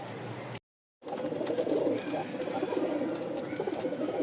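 Rajshahi Giribaz pigeons coo steadily in low, throaty bursts, several birds overlapping close by, broken briefly by a short silent gap near the start.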